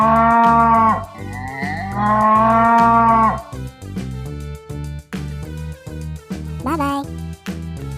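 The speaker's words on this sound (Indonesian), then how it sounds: "Cow." A cow moos loudly twice in long drawn-out calls over a bouncy children's music backing, which carries on alone after the calls end.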